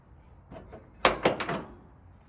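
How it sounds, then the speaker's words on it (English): The door latch on a Ford F600 project pickup truck snaps shut with one sharp metallic click and a brief rattle, heard close up against a faint steady hum. "The latch opens and closes."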